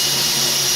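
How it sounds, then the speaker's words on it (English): Continuous high-pitched whine of a power drill running steadily nearby, loud and unbroken. "Excuse the drilling. The electrician is drilling his line"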